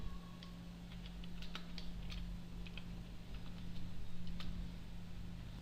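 Computer keyboard typing a name into a calendar group, a quiet run of scattered light key taps over a steady background hum.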